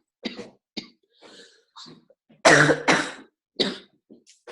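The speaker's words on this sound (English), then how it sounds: "I will mute myself when I have a cough attack" A person coughs in a series of rough bursts, with two loud, hacking coughs in the middle and softer ones around them, close up.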